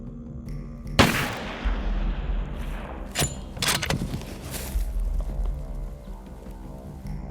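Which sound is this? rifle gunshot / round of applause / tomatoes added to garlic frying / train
rifle gunshot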